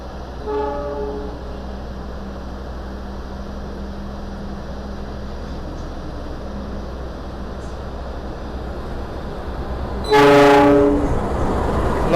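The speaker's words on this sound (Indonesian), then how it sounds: "Kereta api Argo Bromo Anggrek yang akan saya naiki kini telah memasuki stasiun Gambir." The Argo Bromo Anggrek passenger train, hauled by a CC206 locomotive, enters Gambir station with a horn blast at the start and another about ten seconds later, over a steady low rumble of rolling cars.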